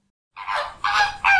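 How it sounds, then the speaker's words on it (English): A flamingo gives three loud, goose-like nasal honks in quick succession, close and clear, after a moment of silence. "flamingo"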